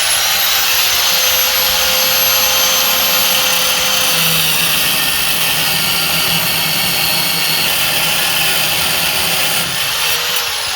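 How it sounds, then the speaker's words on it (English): An abrasive cutoff wheel slices through a suspension part from a 2007-2018 Chevrolet Silverado 1500 during a lift kit install, a loud continuous high-pitched grinding whine that holds steady for the whole stretch with no talking. "this one is going to be cut with the cutoff wheel"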